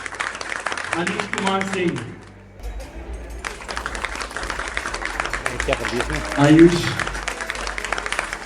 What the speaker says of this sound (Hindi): अगर आप तालियां बजाते रहेंगे तो उमंग उत्साह का और बढ़ेगा